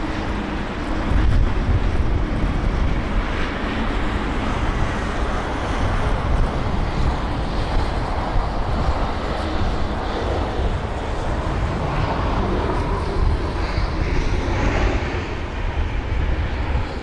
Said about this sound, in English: Sort of baby steps to the touchdown there, really smooth.